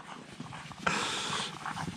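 Excited dogs panting and snuffling in a mushroom forest, with a brief louder burst of rustling movement partway through.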